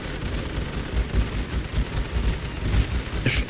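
Continuous crackling gunfire and dense volleys from WWI trench defenders shooting at raiders and stormtroopers in The Great War: Western Front, a steady rumbling fusillade with scattered louder bursts throughout.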